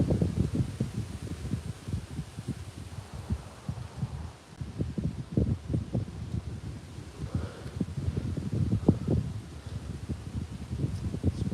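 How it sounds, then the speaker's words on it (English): Wind gusting across a private pond on a windy, slightly cold day of bass fishing, a continuous low buffeting rumble with irregular throbbing pulses, fairly loud and close, with no talking. "It's also windy today."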